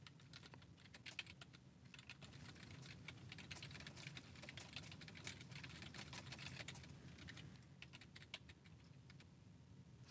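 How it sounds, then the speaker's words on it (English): Steady, rapid keyboard typing with quick irregular clicks, continuing for several seconds at a moderate, close level with no voices. "I'll speed through this typing"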